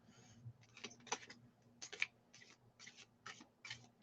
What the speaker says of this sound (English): So I'm shuffling for you.